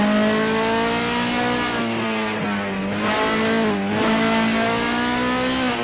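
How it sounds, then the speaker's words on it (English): Supercars race cars power down the front straight at Ruapuna, a loud sustained engine roar holding steady pitch with brief dips and swells as throttle eases on, close and continuous without pause. "They come down the front straight. Easing in the power."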